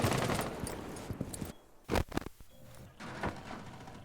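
Video game gunfire from a shotgun and an SMG-11 comes as dense rapid bursts and sharp single shots, loud and close, with a brief lull and a couple of heavy thumps between volleys.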